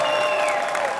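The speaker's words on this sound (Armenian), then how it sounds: "եկեք բարձր ծափարենք" Dense, sustained applause from a studio audience welcoming guest bloggers onto an evening talk show, steady and close throughout with no break.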